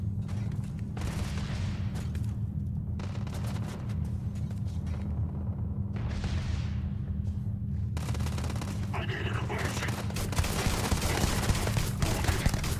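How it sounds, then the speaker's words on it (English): Sustained gunfire in the sci-fi RPG Starfield during a fight at a star yard, with repeated bursts of shots over a constant low rumble and a denser volley near the end. "That is a lot of gunplay."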